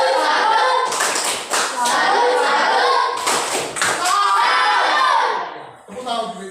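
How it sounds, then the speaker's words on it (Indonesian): A school class performs a rhythmic salute clap, loud bursts of hand claps with pauses between sets, alongside children's voices chanting and talking. "Baik, tepuk salut."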